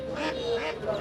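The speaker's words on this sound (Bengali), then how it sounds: "এখানে হাঁস আছে।" Ducks and ducklings at a small village market quack in two or three nasal calls close by. The calls sound over low crowd murmur and background chatter.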